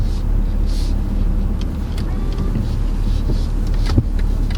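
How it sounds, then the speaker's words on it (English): A 2022 BMW X5 xDrive30d M Sport diesel sets off at low speed, giving a steady, close low hum of engine and road noise inside the cabin with a faint click near the end. "Gonna drive the BMW X5."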